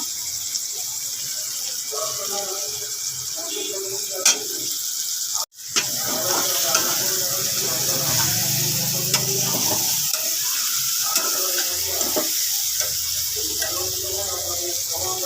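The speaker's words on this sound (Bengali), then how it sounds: "আমার সবজিটা কষা হয়ে গেছে রীতিমতো আর একটু কষে উঠলেই আমি জল দিয়ে দেব" Vegetables fry in a pan with a steady, fairly loud sizzle while a utensil scrapes and stirs at intervals, one sharp knock midway; faint insect-like chirps ride above the cooking noise.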